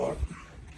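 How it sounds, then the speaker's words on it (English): A dog gives a brief, low whimpering yip, a single short close vocalization that fades quickly. "Let's go, Drew. Drew the dog"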